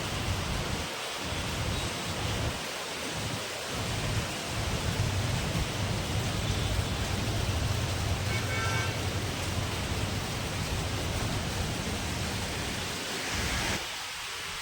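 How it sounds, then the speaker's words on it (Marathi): Torrential monsoon rain driven by strong wind in Konkan Nagar, Ratnagiri, a loud, continuous wash of noise with slight surges and dips as gusts pass. "एवढा वारा आहे, खूप म्हणजे खूप."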